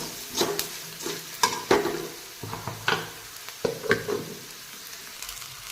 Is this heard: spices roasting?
yes